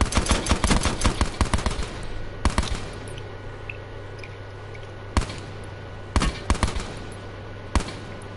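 Gunfire in a PS4 video game: a rapid string of sharp shots at the start, then isolated loud reports spaced a second or two apart over a low hum, with no talking.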